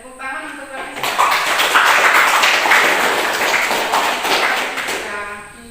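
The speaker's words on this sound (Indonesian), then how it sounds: "tepuk tangan untuk kami" Students in a classroom clap together for several seconds, a dense, sustained patter of hands that swells quickly and then slowly tapers off.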